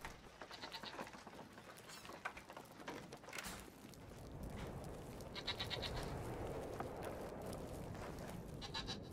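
Goats bleat intermittently in the video game Brothers: A Tale of Two Sons, faint wavering calls over a dense, rustling outdoor background.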